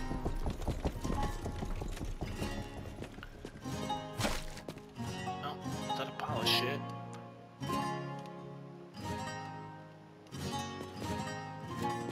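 Horse hooves clip-clop in the western video game Rustler, a steady trotting rhythm mixed under busy game music and a voice talking.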